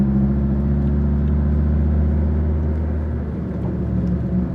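A Dodge Viper SRT-10's V10 engine rumbles steadily and loudly from close by, holding a deep, even drone with a slight dip in revs partway through.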